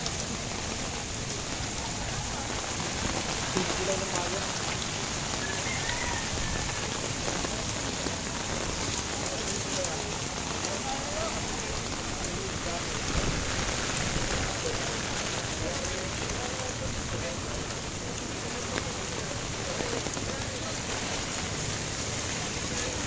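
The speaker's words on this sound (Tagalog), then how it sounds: "Grabe no, lakas ng baha ngayon." Strong floodwater rushing during Typhoon Ulysses in 2020, a steady broad roar of moving water filling the whole stretch at constant loudness, with faint voices barely rising above it.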